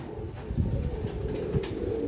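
Male tiger-type pigeon, a flying breed with a feathered tail and plumed feet, coos softly in a low, repeated rhythm from close by, with faint background hiss and no talking.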